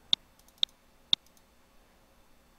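Computer mouse clicks while editing a graphic in Adobe Illustrator: four sharp, isolated clicks spaced about half a second apart, close and clear against near silence.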